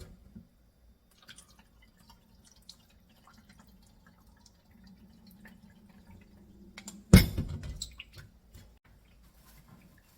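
Raw oysters are rinsed in water: a mostly quiet scene broken by one short, close splash with a few drips trailing after.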